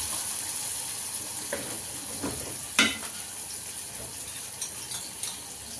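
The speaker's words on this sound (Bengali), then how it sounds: "শুটকি ভুনা করছি" Dried fish (shutki) cooks in a pan as a bhuna, giving a constant close sizzle broken by a few scraping stirs and light metallic clinks.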